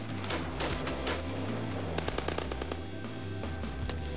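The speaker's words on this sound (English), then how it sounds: "a fierce gun battle between the cops and robbers rages through the streets" Rapid automatic rifle fire cracks through a street gun battle between police and armed bank robbers, with dense bursts and sharp repeated shots continuing loudly for several seconds amid echoing reports.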